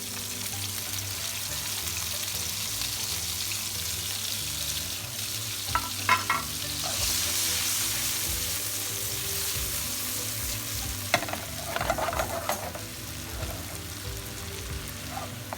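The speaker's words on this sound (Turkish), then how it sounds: "Domatesler biraz sotelendikten sonra pesto için ekliyorum" Tomatoes sauté in a pan for a pesto pasta sauce, giving a steady, close sizzle with a few stirring clicks and scrapes; no one speaks.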